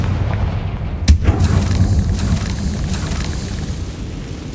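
Confringo fire spell in Hogwarts Legacy on PS5: one sharp, loud blast followed by a short rumbling tail, set against a steady wash of game ambience.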